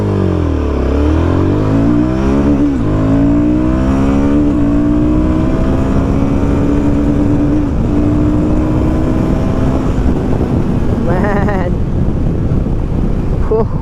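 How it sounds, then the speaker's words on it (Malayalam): Royal Enfield Guerrilla 450 motorcycle accelerating hard from 0 to 100 on an open road, engine pitch climbing through several gear changes with a long final pull, heavy wind rush over the microphone throughout. "അപ്പോൾ അതായത് വണ്ടിയുടെ 0 to 100 വണ്ടി കയറണത് കേട്ടോ"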